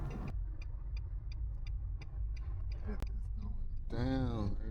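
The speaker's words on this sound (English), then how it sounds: "we hopped in the car with him, and we're on our way cross town" Car driving across town in Chiang Mai, a low engine and road rumble heard from inside, with a regular ticking of the turn signal, a sharp click, and a voice near the end.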